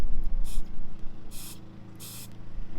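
An aerosol can of clear coat, sprayed into a lid, gives three short, close hissing bursts. Brief pauses separate them, and a low background hum continues throughout.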